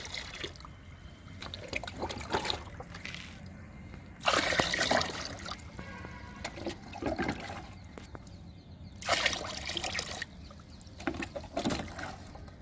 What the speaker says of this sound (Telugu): ఒక్కొక్క బకెట్లో మూడు మగ్గులు పోస్తున్నాను